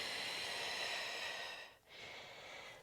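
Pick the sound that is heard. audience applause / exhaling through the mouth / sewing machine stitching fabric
exhaling through the mouth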